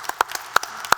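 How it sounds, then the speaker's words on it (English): A few audience members at an entrepreneurship panel clap sparsely, four or five distinct sharp claps spread over a second, moderately near. "come on, clap for that"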